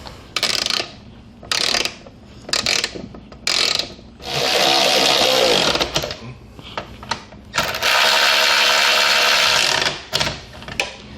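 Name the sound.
tightening Jeep hardtop hoist bolts with a 13 socket wrench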